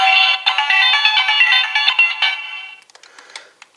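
A Kyuranger Kyu The Weapon toy plays an electronic beeping confirmation melody, bright and steady for over two seconds, then a few scattered clicks and short blips.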